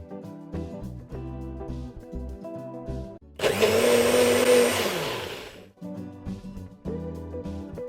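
A kitchen blender whirs loudly for about two seconds, grinding pizza sauce ingredients into a paste, with background music before and after the burst.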